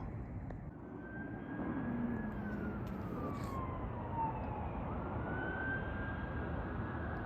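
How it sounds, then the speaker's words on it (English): A fire chief truck siren wails in the distance, its pitch sliding up and down over a steady low rumble of traffic, faint and passing by. "Oh, not an ambulance, but a fire chief truck."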